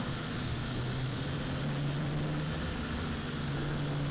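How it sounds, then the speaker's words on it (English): A JJRC H8D quadcopter drone in flight gives off a steady, unbroken rotor buzz with a tonal motor whine, close and constant throughout. "Now let's increase the flying rate of this quadcopter to get a little more oomph in our flying."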